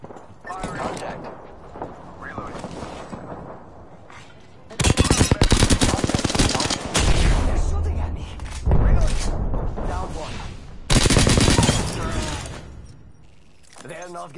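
Video game gunfire rings out in several loud, sustained bursts of rapid automatic shots, separated by quieter stretches where a voice talks over faint background action.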